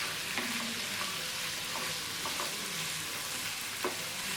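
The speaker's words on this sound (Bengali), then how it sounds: "চিকেনগুলোকে 2-3 মিনিট ভেজে নিব।" Chicken pieces sizzle and fry steadily on a tawa over medium-low heat, with occasional stirring scrapes and no talking.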